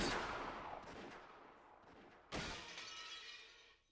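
Gunfire in the video game Rose Guns Days: a sharp burst at about two-thirds through, ringing out over a noisy, shattering wash that fades near the end. No one speaks.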